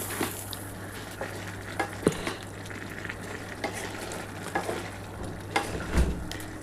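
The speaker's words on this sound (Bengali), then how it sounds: "এবার এই পোস্তটা দিয়ে ভালো করে কষিয়ে নিতে হবে। একটু নাড়াচাড়া করে নেবো বন্ধুরা" Pumpkin greens cooked with poppy seed paste sizzle softly in a pan while being stirred, with a low bubbling bed and scattered scraping taps of the spatula throughout; no voices.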